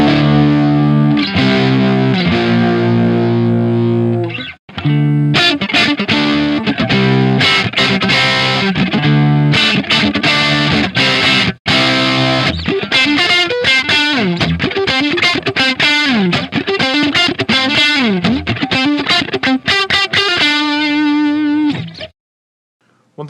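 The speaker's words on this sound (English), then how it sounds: "Switch to the neck pickup just to give you a taste of, you know, like what a neck pickup might sound like on this." Electric guitar played through a dimed Rockitt Retro 50 handwired Marshall Plexi replica amp on the neck pickup, loud distorted chords and riffs ringing continuously for over twenty seconds before cutting off near the end.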